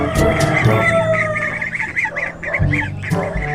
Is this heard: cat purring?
no